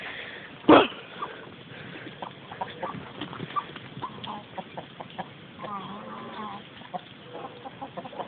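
Minecraft chicken clucking and crowing with game-like background sounds, a sharp thump near the start, and scattered clucks throughout at moderate volume.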